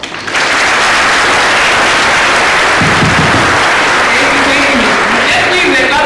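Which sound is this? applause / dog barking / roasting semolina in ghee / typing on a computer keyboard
applause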